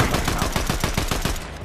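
Gunshots in a ranked video game match, a rapid burst of close, loud automatic fire with evenly spaced shots for under two seconds, no voice over it.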